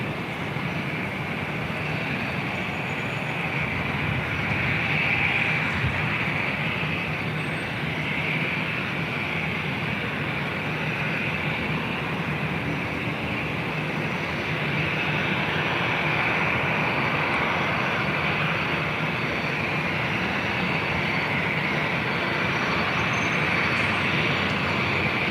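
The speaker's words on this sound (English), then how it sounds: "Lufthansa flight 450 coming in Frankfurt, the A340-300" A Lufthansa Airbus A340-300 from Frankfurt landing at LAX, heard as a loud, continuous jet engine roar that holds steady for the whole stretch, with no voices over it.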